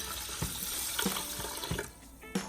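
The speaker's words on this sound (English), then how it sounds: "I'm also gonna add 4 cups of water to my rice." Water runs from a tap into a pressure cooker pot holding rice, a steady soft splashing flow that dips and resumes a few times, close and fairly quiet with no talk.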